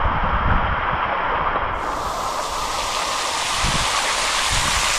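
Water spills steadily down a small waterfall at Visapur fort during monsoon rain, a close, continuous broadband rush that brightens a little partway through and runs alone without any voices.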